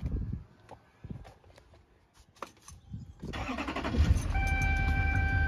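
A 2006 LBZ Duramax diesel engine cranks with a few faint clicks and rattles, then catches and settles into a steady, fairly quiet idle heard close up.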